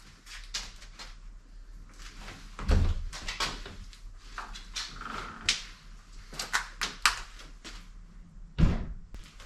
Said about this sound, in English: We're going to try the door for the first time, see if it lines up before we put all the screws in.